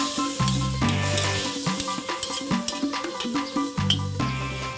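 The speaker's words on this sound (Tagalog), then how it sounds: "Ito yung hiniwalay nating taba. Unahin lang natin sa pan para mapalabas natin yung mantika." Strips of separated pork fat sizzle and crackle in a hot pan, rendering out oil with a steady frying hiss, irregular pops and occasional scraping stirs, heard close with no talking.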